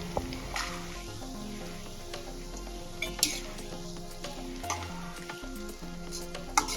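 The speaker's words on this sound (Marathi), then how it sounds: "गाजर आपल्याला इथे एक मिनिट परतून घ्यायचे आहे" Carrots sautéing with softened tomatoes in a pan for vegetable masala Maggi, giving a steady close sizzle with occasional spatula stirs and clinks over background music.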